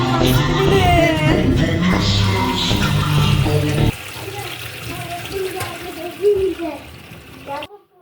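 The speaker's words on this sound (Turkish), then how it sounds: "tuvalete ilaç dökeyim, sifona basayım onu kaybedeyim" A toilet flush in a home bathroom, a loud rushing swirl of water for about four seconds that cuts off abruptly, followed by quieter trickling and dripping while a voice speaks.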